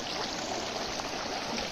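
Pure drinking water flows steadily at Bidur, Nepal, a continuous close rushing stream with a broad hiss and no breaks or voices over it.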